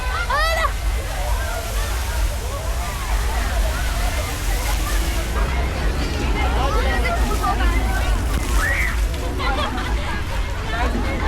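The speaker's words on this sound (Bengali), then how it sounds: "ছেলে মেয়ে ছোট বড় সকল বয়সের মানুষ আছে এখানে এবং একে অপরকে পানি মারতেছে।" A large crowd at the Vardavar water festival in Armenia splashes and sloshes water nonstop amid a dense babble of voices and shouts, loud and close throughout.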